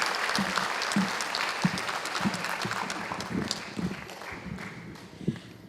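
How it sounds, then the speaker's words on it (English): At a summer graduation ceremony, an audience claps in a moderate round of applause with scattered distinct nearby claps standing out from the steadier crowd clapping, gradually thinning. "before I hand the mic over to Mrs. Sorrentino, I just want to give you the first of many rounds of applause tonight"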